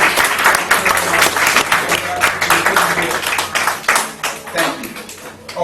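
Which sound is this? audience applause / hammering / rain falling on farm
audience applause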